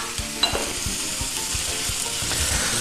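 Potato and onion fry in a pan while a spoon stirs them, a steady close sizzle punctuated by regular scraping knocks against the pan.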